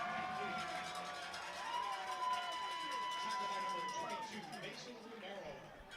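Crowd noise at a Highland vs. Desert Ridge high school football game rises in a steady, moderately loud roar and murmur after a play, with a whistle-like tone and broad cheering texture throughout.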